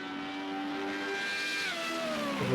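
Formula Renault race cars brake hard into the carousel at Road America, their engines screaming high and then dropping in pitch as they slow, one car following another, loud and continuous.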